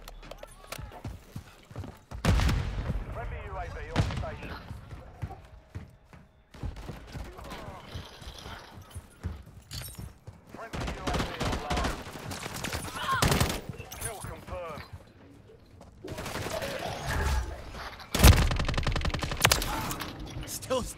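Call of Duty Modern Warfare 3 multiplayer gunfire, bursts of rapid shots in clusters separated by quieter gaps, mixed with someone talking over the action.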